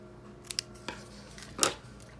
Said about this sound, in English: Made this one a little long, so I'm just gonna cut it off.